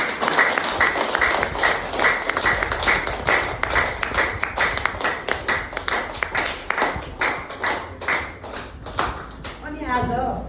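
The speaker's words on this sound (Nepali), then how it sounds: "यसरी हाम्रो बुवाको लागि जोडको ताली बजाइयो" An audience claps loudly in a steady, rhythmic unison beat at a testimony gathering, the claps continuing for several seconds and fading at the end.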